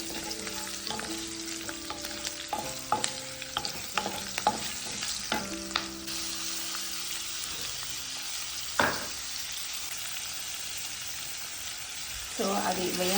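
Green chillies and curry leaves fry in a pan while making amla coconut rice, a steady close sizzle broken by clinks and scrapes of stirring, with a louder crackle near the end.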